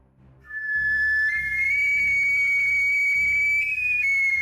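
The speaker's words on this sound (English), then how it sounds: "I raised the whistle to my lips, took a breath, and blew." A referee's whistle at a World Cup kickoff is blown in one long, loud, sustained shrill blast lasting about four seconds, with a slight pitch rise near the end, over a low rumble of background noise.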